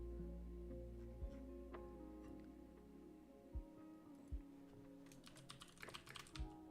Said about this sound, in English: Oh no, my typing.